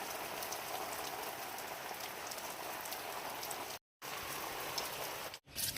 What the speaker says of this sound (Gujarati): વરસાદ જુઓ, કાળું ભમ્મર આકાશ અને પવનના સુસવાટા જુઓ.